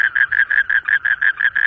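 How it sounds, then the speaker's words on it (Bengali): Night frogs beside water, one calling close and loud in a fast, evenly spaced series of about ten throaty pulses, with nothing else heard. "দেখেন ব্যাঙ কিভাবে ডাকে,"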